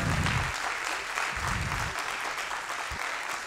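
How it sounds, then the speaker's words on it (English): A crowd claps steadily and loudly throughout, a dense wash of applause without pause. "Let's give them a huge round of applause."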